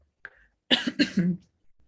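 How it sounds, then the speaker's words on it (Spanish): A short cough, followed by a few harsh throat-clearing bursts close to the mic, with silence around them. "Les voy a pedir que me disculpen con una tosecita que anda muy molestona"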